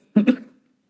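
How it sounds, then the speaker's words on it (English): A single short cough, close and fairly loud, two quick bursts then fading within half a second, heard alone without talk. "I'm going to cough"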